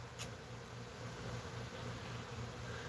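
A swarm of honey bees flies near trees as a continuous, faint, even buzzing drone with no talk.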